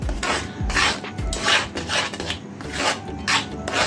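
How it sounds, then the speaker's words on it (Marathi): A spoon scrapes and stirs a thick khoa mixture in a pan, rhythmic rasping strokes repeating about every half second, close and steady with no talk. "तोवर आपल्याला मस्त असं हलवत राहायचंय, त्याला अजिबात दम खायचं नाही हलवायला"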